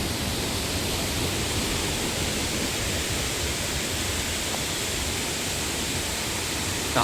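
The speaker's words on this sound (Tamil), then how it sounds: "தண்ணி ஊற்றி போகுது இதில்" Constant, dense roar of a waterfall pouring down at Salango Temple Park, Malaysia, a broad unbroken wash of sound that stays even throughout.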